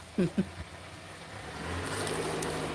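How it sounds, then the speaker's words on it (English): A car pulling away outside, its engine rising to a steady low rumble after two short knocks near the start, fairly faint and distant with no talk over it. "That would be my car leaving, y'all."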